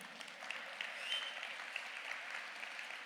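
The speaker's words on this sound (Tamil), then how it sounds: "கைத்தட்டியவர்கள் ஒன்று பெற்றிருப்பார்கள் அல்லது தருவதற்கு தயாராக இருப்பார்கள்" An audience at a Tamil community speech event in Slough, England, applauds steadily, a dense even patter of many hands clapping from a hall, moderately loud and unbroken for a few seconds.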